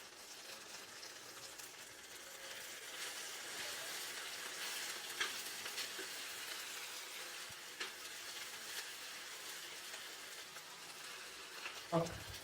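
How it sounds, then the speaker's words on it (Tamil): Ginger, garlic and curry leaves frying in oil for a goat head fry, a soft, steady crackling sizzle heard at a distance, with a few faint clinks and a louder scrape near the end. "இஞ்சி பூண்டு நல்லா வதங்கிருச்சு"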